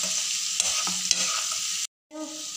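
Dates and tamarind curry being stirred in a pan, a soft steady simmering sizzle with a few spoon scrapes, then a short silence and the sizzle resuming.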